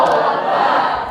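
High school students at SMA N 1 Sitiung Dharmasraya clap and cheer in a loud, dense burst of crowd noise lasting about a second, close and continuous.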